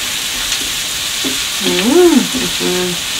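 Bacon frying in a pan gives off a steady, soft sizzle throughout, while a voice hums or speaks briefly over it.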